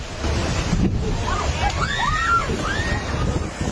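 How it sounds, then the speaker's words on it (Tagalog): Floodwater from Typhoon Tino surges across a road in Binalbagan, Negros Occidental, as a bus drives through it: a loud, continuous rushing slosh with wind buffeting the microphone and faint voices mixed in. "Sinuong ng bus na ito ang kalsadang nagbistulan ng ilog sa tindi ng bahang dala ng Bagyong Tino"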